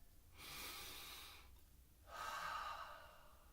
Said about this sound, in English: Breathe in through your nose and exhale through your mouth.